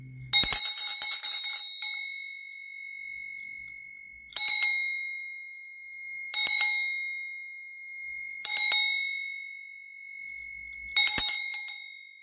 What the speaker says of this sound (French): on va sonner la cloche.